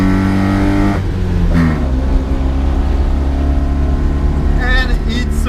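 A 1980 Mitsubishi Minica with a 550cc four-stroke engine revs up close and loud, its pitch climbing and falling in short bursts while someone talks over it.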